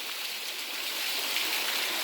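Steady rushing water from a waterfall-fed stream in a Bankhead National Forest canyon, a broad, even wash heard close and unbroken.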